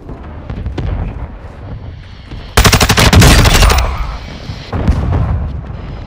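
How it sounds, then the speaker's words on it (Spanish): Allied precision airstrike in Modern Warfare 2 multiplayer, a loud rapid burst of explosions and gunfire lasting about a second, with scattered shots and rumbling blasts before and after. "Ataque aéreo de precisión aliado."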